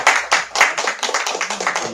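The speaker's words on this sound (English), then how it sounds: "let's give another round of applause for Jess." A round of applause at a book reading event, with distinct, close hand claps forming a moderately sized, slightly uneven burst that carries steadily throughout.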